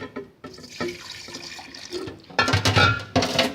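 Liquid is poured into a jar while kombucha is being made, giving splashy, bubbling pours in several bursts, loud and close, with brief pauses between them and no talking.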